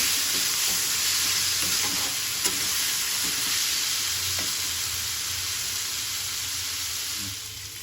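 Potato and garlic curry masala frying in oil, with a steady, close sizzle and occasional soft stirring scrapes from the pan throughout. No one talks.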